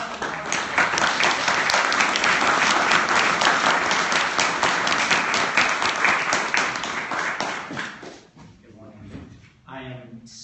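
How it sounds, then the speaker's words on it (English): Sustained audience applause at a journalism scholars' conference welcome session, dense and loud for about eight seconds before thinning out, with a voice briefly speaking as the clapping fades. "A big round of applause"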